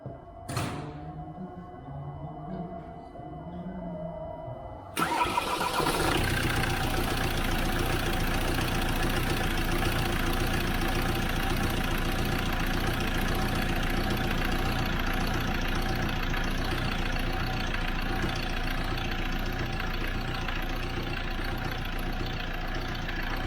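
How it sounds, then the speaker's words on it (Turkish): A Ford Custom 2.2 diesel engine with about 220,000 km, just fitted with a new timing chain, cranks and catches at once after a quiet lead-in, then settles into a loud, steady, clattering diesel idle that runs to the end. "hazırsan marşa basabilirsin"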